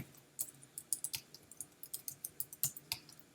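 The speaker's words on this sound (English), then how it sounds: "Just typing it to someone here and they're watching us." Quiet, rapid clicking of keys on a computer keyboard during a study session, an irregular run of light taps at close range with no talking.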